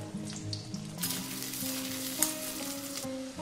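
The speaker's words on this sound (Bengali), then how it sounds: "এবার আমি এখানে 2টো আলু কেটে নিয়েছি, একটু একটু ছোট ছোট সাইজের কেটে নিয়েছি। এটা একটু ভেজে নেব ভালো করে।" Small cut potato pieces fry in oil and ghee, giving a steady close sizzle with spatula stirring and scraping. A tonal hum runs underneath throughout.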